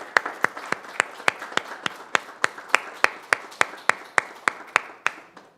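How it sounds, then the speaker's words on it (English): At a city council meeting, the audience claps in a steady, evenly spaced rhythm of sharp, close hand claps that last several seconds without talk. "Can we give them a round of applause,"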